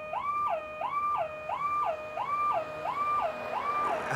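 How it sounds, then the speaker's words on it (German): An alarm siren in the Die Drei Fragezeichen video game, a rising and falling electronic wail repeating about every half second, steady and moderately loud with no talking. "Könnten Sie bitte den Alarm abstellen?"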